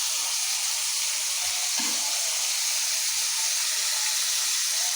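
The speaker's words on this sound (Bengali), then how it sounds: "আমি তেলের উপরে একদম ভেজা ভাজা করে নেব, ভাজা ভাজা করে নিলে খেতেও ভালো লাগবে।" Chicken and bottle gourd fry in hot oil, giving a loud, continuous sizzling hiss that stays steady and close throughout, with no voices.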